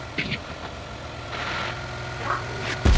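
A motorcycle engine idles and revs in a PUBG battle royale match on the Erangel map, a steady low rumble with brief rises and a sharp loud thump at the end.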